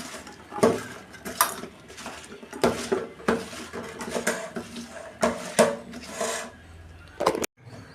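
A wok is set on a stove in a home kitchen, giving irregular clattering knocks and scrapes of metal on metal, fairly close, with a sharper clank near the end and no talk.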